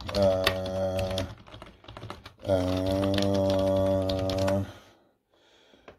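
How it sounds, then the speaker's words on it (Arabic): Searching on Google with a computer keyboard, brisk runs of close keyboard clatter in two bursts with a pause between them, partly alongside a steady tonal hum and a voice speaking. "دقيقة راح أكتب بالجوجل"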